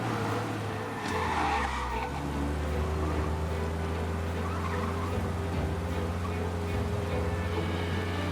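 A car skids hard while fleeing police in the Mafia Definitive Edition video game. A steady engine drone runs under a short burst of tire squeal near the start, continuing loud throughout.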